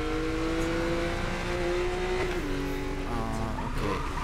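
A car drifting in Need for Speed: Most Wanted (2012), with a steady loud engine drone whose pitch shifts and sags as the car slides, plus faint tyre noise.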